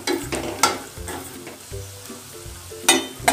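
Raisins and nuts frying in ghee in a kadhai on a medium flame sizzle steadily, broken by a few sharp clinks and scrapes of a spoon stirring against the pan.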